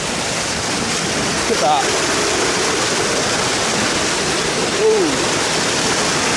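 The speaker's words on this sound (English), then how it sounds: "That's fresh, fresh water, yeah. Running water." Fresh running water flows over rock at Pleasley Vale, a loud, steady, close rushing that fills the scene while a voice briefly exclaims over it.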